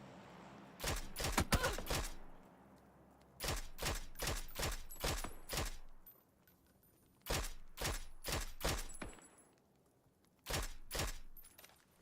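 Bursts of rifle fire from an SKS in the video game PUBG, several rapid shot volleys in clusters separated by short pauses, loud and sharp against a quiet background.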